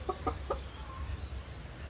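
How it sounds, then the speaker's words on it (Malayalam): A three-month-old hen chick clucks three times in a quick, close run, then goes quiet over a steady low background hum. "ഞങ്ങളുടെ ഇവിടുത്തെ ഒരു കോഴിക്കുഞ്ഞാണ് പെടക്കോഴിക്കുഞ്ഞാണ്"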